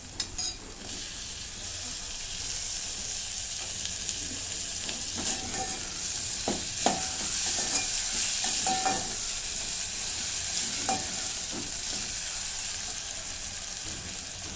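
Tomato being sautéed with spices in a pan for a vegetable curry, a steady moderate sizzle with occasional stirring taps and scrapes, no speech.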